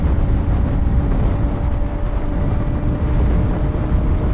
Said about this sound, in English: if you hear the microphone is going to pick up a lot of wind noise